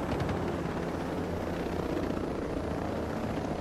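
Steady, loud rotor chop and turbine drone from a helicopter in the Ghost Recon Breakpoint video game, close and unbroken with no talking.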